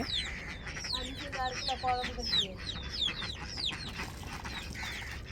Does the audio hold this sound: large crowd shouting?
no